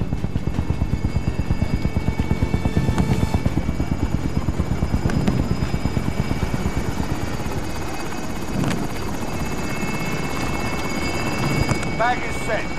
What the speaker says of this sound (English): Hostile attack chopper carrying cash. Shoot it down.